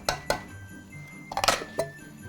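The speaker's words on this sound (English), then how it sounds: "You can put in your can of oysters" A can of oysters and their juice tipped into a pot of Swedish potato sausage and oyster stew coming back to a boil, with a few sharp metallic clinks of tin against the pot spaced apart over a low kitchen hush.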